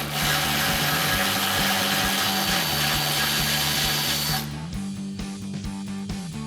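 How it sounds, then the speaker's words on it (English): A ratchet with a 13mm socket and extension loosens the rear bump stop bolt on a Ford F-150, sounding as a steady run of close mechanical clicks with a continuous hum behind it. "we've got a 13mm socket and extension on our ratchet"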